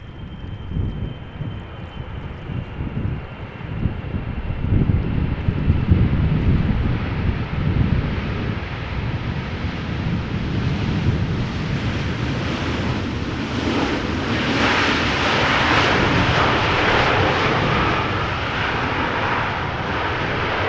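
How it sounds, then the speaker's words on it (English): A KLM Boeing 777ER airliner arriving at Amsterdam Schiphol Airport in gusty crosswind makes a steady, loud jet roar, heard from nearby with wind buffeting the microphone and no talk. "First up, KLM flight 744 777ER arriving from Peru"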